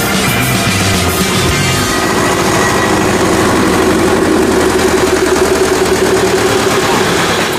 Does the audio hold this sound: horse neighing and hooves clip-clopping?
no